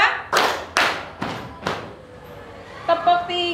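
A classroom of children claps out a set rhythmic pattern in unison, four sharp group claps spaced across the first two seconds, followed by a teacher's voice speaking.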